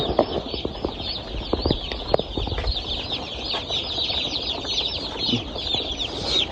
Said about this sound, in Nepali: फेरि नयाँ चल्लाहरू आएको छ, देख्न सक्नुहुन्छ।